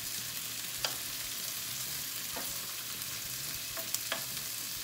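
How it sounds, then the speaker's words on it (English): Sliced red and green peppers and onions sizzle steadily in a pan, a constant hiss with a few light stirring scrapes and ticks, with no voices. "We're going to put in our peppers now, and then these onions will continue to cook."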